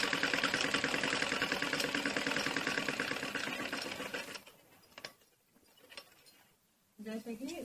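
Sewing machine stitching a khajuri salwar, close and steady, running with a fast mechanical rattle for about four seconds before stopping. Quiet handling noises follow, then a short burst of stitching resumes at the end.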